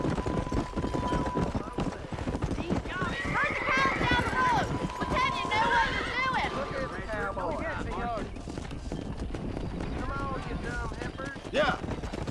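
Steady clip-clop of galloping horse hooves in Red Dead Redemption runs throughout, with people talking over it and a faint whistle-like tone in the background.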